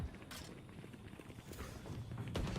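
Footsteps in Valorant during a VCT 2022 Challengers NA pro match between 100 Thieves and FaZe Clan: a few quiet, thudding running steps over low game ambience.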